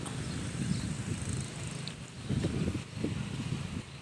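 Strong wind buffeting the microphone, low gusty rumbling that rises and falls in uneven bursts with no talk.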